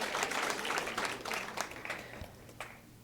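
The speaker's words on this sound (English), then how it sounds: "please clap your hands." An audience at a medical equipment donation ceremony for Namibia claps, a dense wash of hands that starts strong and slowly thins, with faint background talk.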